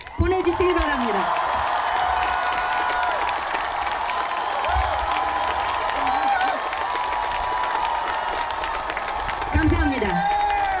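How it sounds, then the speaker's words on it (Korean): A large crowd of supporters at a South Korean presidential candidacy announcement claps and cheers continuously, with loud, dense applause filling the whole stretch and a voice rising briefly above it. "큰 박수를 보내주시기 바랍니다"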